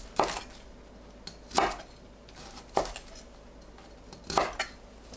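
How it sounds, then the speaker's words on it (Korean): Knife chopping washed broccoli into bite-size pieces on a cutting board: four sharp, separated chops spaced about a second apart, close and clear against a quiet kitchen background. "씻은 브로콜리는 한 입 크기로 썰어줍니다"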